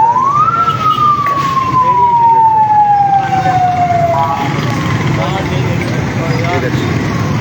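A PERA enforcement vehicle's siren sweeps up and then slowly glides down in one long wail, loud and close, over traffic rumble and someone talking.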